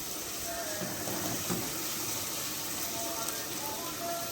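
Tomato juice pours into a pot in one steady, splashing stream that runs continuously and sounds close and fairly quiet.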